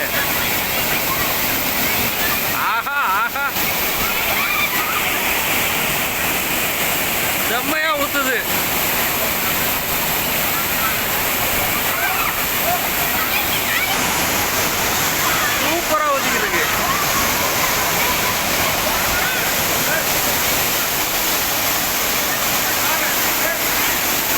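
Thirumoorthy waterfall pours down in a loud, continuous roar of falling water at close range. Speech is brief and occasional over it.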